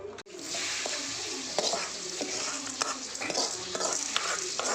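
Chana dal, onion and garlic fry in oil in a pan for chutney, a steady close sizzle with scattered stirring scrapes and clicks, continuing without pause and with no voices.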